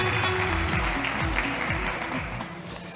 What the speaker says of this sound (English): Please give a huge round of applause to David Pistoni from Celeros.